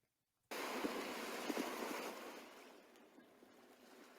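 Ocean surf rushes in abruptly after a brief silence, a broad washing roar that slowly eases and thins as the wave recedes.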